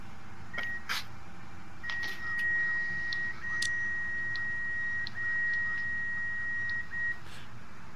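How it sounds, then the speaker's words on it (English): A steady electronic warning beeper sounds in a DC-10 cockpit in the FSX flight simulator, long pure tones with brief gaps repeating across the clip, alongside faint clicks and quiet background hum. "My butt puckers every time Moondog's beeper starts going off"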